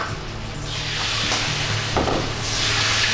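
Butter-coated shrimp tempura batter fries in hot oil, a steady broad sizzle and crackle that swells slightly, close and continuous, with faint scraping in the background.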